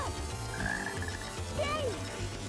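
A black frog in the Sonic Heroes rainforest stage croaks in short bursts over looping game music, with chirpy whistling effects layered on top.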